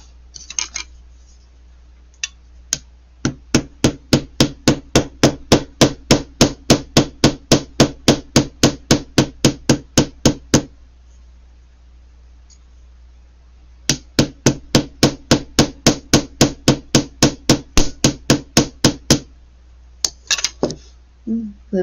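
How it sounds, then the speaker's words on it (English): Rapid, evenly spaced hammer blows ring sharply on metal in two long bursts, with a short pause between and a few scattered strikes at the start and end. "I'm going to hammer a little bit."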